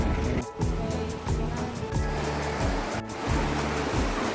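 Cold spring water at Bulao Spring in Cagayan de Oro, heard as a steady, full rushing and splashing of flowing water with a continuous near roar throughout.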